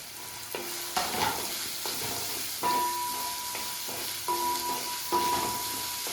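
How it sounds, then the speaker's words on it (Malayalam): Sliced onions, salted and rubbed beforehand, fry in a pan for chicken chukka with a steady close sizzle, broken every second or so by the ringing scrape of a spatula stirring against the metal. "സവാള നമ്മൾ ചെറുതായിട്ട് ഉപ്പിട്ടൊന്ന് തിരുമി വെച്ചേക്കുന്ന സവാള ഉണ്ട് നന്നായിട്ട് അത് ഇട്ട് കൊടുത്തേക്കാം"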